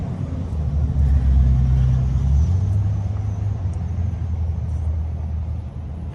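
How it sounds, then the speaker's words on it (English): A 510 horsepower Paccar MX13 diesel in a brand new 2024 Peterbilt 389 runs under an open hood, a deep, steady rumble close by that swells briefly before settling into an even idle. "Here we have a 510 horsepower, 1850 torque Paccar MX13."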